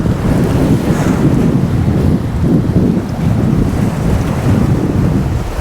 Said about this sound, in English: That wind's picking up even more now.